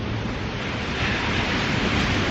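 Steady broadband roar of ocean surf breaking at a crowded surf spot, continuous and fairly loud with a wind-like hiss throughout and no distinct individual wave crashes.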